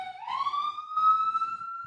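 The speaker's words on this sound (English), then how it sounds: "the sounds of sirens behind me" A single police siren wails close by on a city street, its pitch sliding steadily upward and holding loud and clear with no talking.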